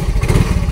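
A repaired motorcycle engine, its starter motor fitted with new carbon brushes, catches on one press and runs with a steady low, chugging rumble close by, with no voices over it.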